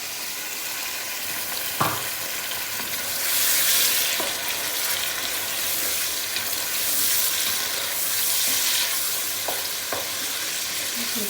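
Chicken pieces frying with sautéed onions in a pan, a steady broad sizzle throughout with a few clicks of a utensil stirring, close and moderately loud, no talking.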